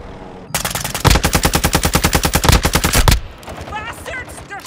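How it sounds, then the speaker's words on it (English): Sustained automatic gunfire in the multiplayer video game Call of Duty Modern Warfare II, loud and close, a rapid steady burst of about two seconds followed by a shouted voice. "Bastards! They're shooting at me!"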